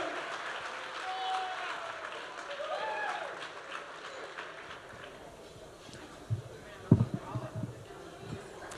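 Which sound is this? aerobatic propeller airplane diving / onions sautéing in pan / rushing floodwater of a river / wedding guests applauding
wedding guests applauding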